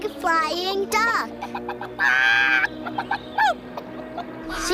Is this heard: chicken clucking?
yes